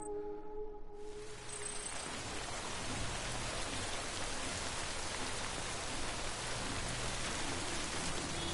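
Rain in the Death Stranding video game pours steadily after a brief quieter start, a dense, constant patter of drops that fills the scene without letup or voices.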